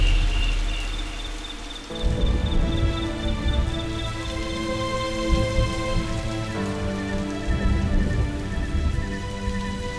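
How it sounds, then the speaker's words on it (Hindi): Steady rain patters and hisses on a surface in a home during a rainy-evening power cut, heard continuously under sustained background music with no talking. "ये बारिश को भी आज ही आना था और इसके चलते बत्ती भी चली गई।"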